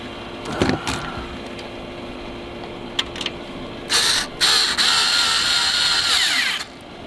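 A power drill drives and tightens a screw into patio furniture, first in a couple of short bursts and then in a longer whine of several seconds, with a few clicks between.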